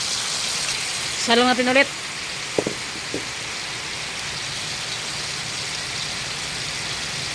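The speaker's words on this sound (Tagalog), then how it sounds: "Malakas ng ulan mga kapangit." Heavy rain pours down in a steady, unbroken hiss that fills the whole stretch, with a voice briefly speaking near the start and a couple of light knocks in the foreground.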